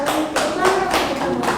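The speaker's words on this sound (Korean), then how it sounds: "박수!" A congregation at a Sunday church sermon claps in loud, rhythmic bursts, several sharp beats in quick, even succession.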